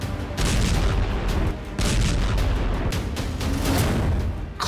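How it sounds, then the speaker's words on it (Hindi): Explosions at Beirut airport: a continuous barrage of loud, deep, rumbling booms that overlap and roll on for several seconds, dipping briefly before surging again. "उड़ा दिया बेरूत एयरपोर्ट।"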